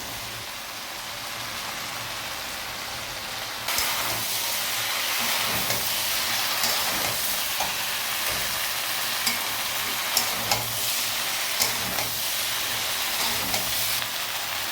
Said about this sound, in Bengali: দেখুন সাইড থেকে তেল ছেড়ে দিয়েছে, আমরা এর মধ্যে ঝিঙেগুলো দিয়ে দেবো।